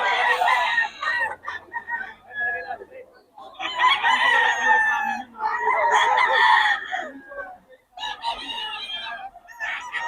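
Several young roosters (stags) at a gamefowl farm in Bocaue crow in overlapping, drawn-out calls, loud and close, with brief pauses between bursts.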